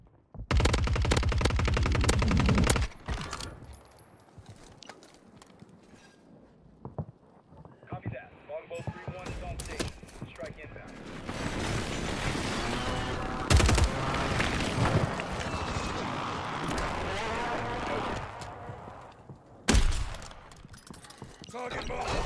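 Sniper fire and other gunshots in the battle royale video game Warzone come as sharp cracks and bursts amid busy game noise, while a player talks over much of the action.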